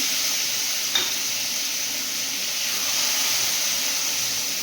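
Kharkon leaf paste frying with browned fried garlic in a pan, a steady broadband sizzle holding throughout with one faint clink near the start.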